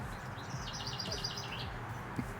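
Small birds chirp in a summer wildflower garden, a quick run of high repeated tweets in the middle over a steady outdoor background hiss, with a couple of low soft knocks.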